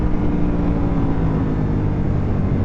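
Ducati Panigale V2S motorcycle with a Termignoni exhaust riding at speed, a steady broadband engine roar mixed with wind rush, loud and continuous throughout, with no talk.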